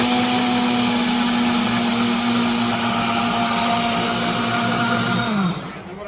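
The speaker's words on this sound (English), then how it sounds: "it's just your average blender" A kitchen blender runs loud and steady for about five seconds, its motor whine dropping as it winds down at the end, while seafood chowder ingredients are pulsed.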